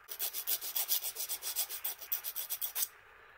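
A half round file rasps across a plastic landing net spreader block in about twenty quick, even back-and-forth strokes, close and crisp, then stops near the end.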